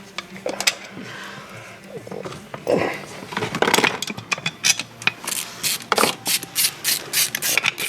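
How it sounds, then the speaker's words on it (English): Ratchet wrench undoing bolts on a Kawasaki KX 125 dirt bike engine during a rebuild, giving bursts of quick clicking close by, mixed with clanks and handling noise and some talk. "you undo bolts now as well, look"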